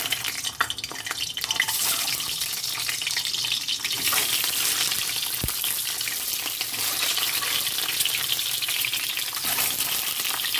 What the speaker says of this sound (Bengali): এবার আমি সেদ্ধ করা রাখা ডিমটাকে দিয়ে দিলাম